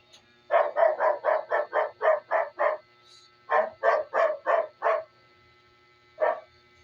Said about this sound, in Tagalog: May ang ingay ng mga aso.